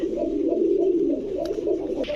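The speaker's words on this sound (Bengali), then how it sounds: "একে একেবারে ক্রিম চোখের কবুতর" A cream-eyed Indian pigeon coos close by, a low, continuous throaty burble that rises and falls softly on its own.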